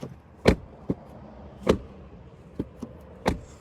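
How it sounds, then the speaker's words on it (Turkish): A 2025 Citroen C4 Max MHEV 145 HP door is opened and shut several times, giving sharp, solid thuds and lighter clicks at irregular intervals, close by in a quiet setting. "Kapı sesine bir bakalım. Kapı hissiyatını."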